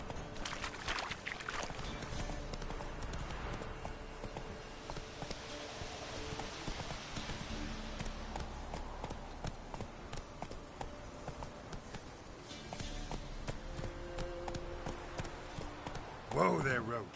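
Roach the horse gallops through The Witcher 3, a steady drumming of hooves running nearly the whole stretch beneath in-game music and a voice, with a sharper flurry near the end.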